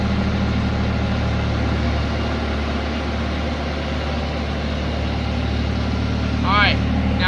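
A skid steer loader engine runs steadily as the machine backs up in reverse, a constant low mechanical drone throughout with a brief chirp near the end.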